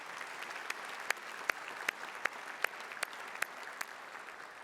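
Audience applause fills an awards day ceremony hall, a steady wash of clapping with a few sharper individual claps standing out along the way.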